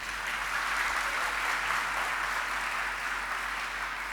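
Steady, dense applause from a large audience at a Jain Chaturmas kalash installation ceremony, continuous and even throughout with no voices on top.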